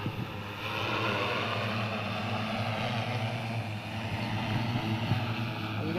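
A survey drone flies in to land, with a steady propeller drone and hum that grows a little after the first second and then holds. It is moderately loud against outdoor background noise, and no clear talk is heard.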